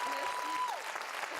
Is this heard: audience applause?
yes